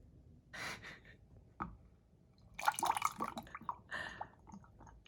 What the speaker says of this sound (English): I'm going to start pouring it into the funnel so I can put it in my container